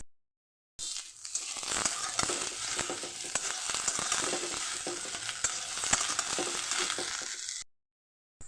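Steady sizzling of potatoes frying in a pan, with crackles and scraping stir sounds throughout, close and moderately loud, no talking.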